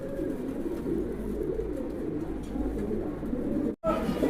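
Soft, low cooing from pigeons goes on steadily at close range, with a brief dropout just before the end.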